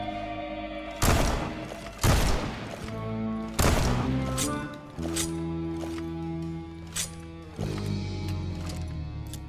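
Gunfire from the Hellboy Web of Wyrd video game on PS4, with unlimited ammunition: several loud, sharp shots in an irregular sequence, each with a short decay, over a sustained musical score and without speech.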